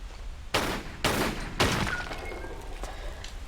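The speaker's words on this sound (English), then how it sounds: "There's another can to shoot." Three sharp gunshots fired at a can in a Tomb Raider level editor game, loud, evenly spaced cracks about half a second apart, each trailing off over a steady low background hum.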